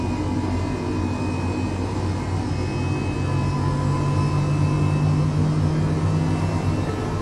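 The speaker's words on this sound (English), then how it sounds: "So there you go, engine 1 idle." An Airbus H135 helicopter engine idling in Microsoft Flight Simulator 2020 gives a steady, loud turbine whine over a low droning hum, continuous and unchanging, with no voices.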